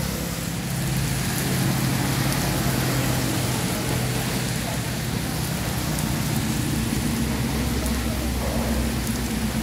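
Steady rain pours onto a city street in Vietnam on an afternoon, a constant dense hiss with low traffic rumble underneath, loud and unbroken for the whole stretch.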